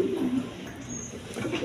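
Pigeons coo in a market stall among healthy birds for sale, a low murmuring coo rising and falling over a steady background, close and moderately loud throughout.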